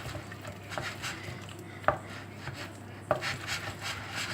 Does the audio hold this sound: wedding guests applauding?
no